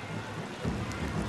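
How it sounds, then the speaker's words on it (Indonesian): Rain falling on an open-air football pitch during a Brunei DPMM FC versus Tanjong Pagar United match: a dense, steady hiss of rainfall with a low rumble underneath, continuous and fairly loud, no voices heard. "Kerana hujan turun pada ketika ini."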